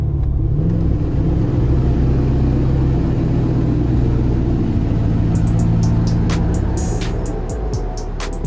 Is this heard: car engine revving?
yes